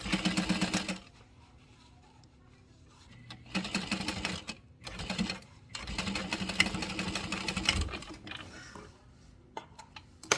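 A sewing machine stitches a 3/8-inch facing seam, backstitching at the ends: several bursts of close, steady mechanical whirring separated by short pauses, with no talking.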